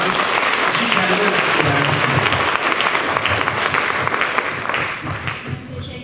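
An audience applauds loudly and steadily at a university gathering, a dense sustained clapping that thins slightly toward the end.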